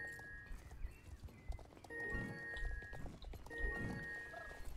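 Horse hooves clip-clop at a steady walking rhythm in the online horse-riding game Star Stable Online during an Icelandic horse race, with a soft whinny-like tone and quiet background game sounds.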